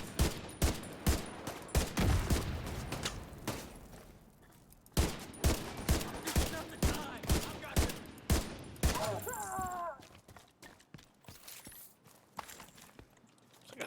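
Rapid bursts of gunfire in The Division, sharp repeated shots in clusters and volleys with brief pauses between them, loud and close, with a short whirring electronic effect partway through.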